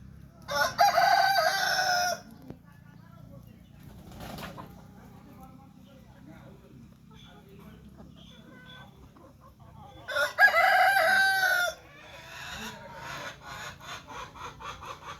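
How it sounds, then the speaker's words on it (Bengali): Free-roaming native village chickens and roosters in a rural yard. Two long crows ring out, close and loud, separated by quieter clucking and soft background sounds. "সব দেশি মুরগি এখানে, মোরগ মুরগি অবাধ বিচরণ।"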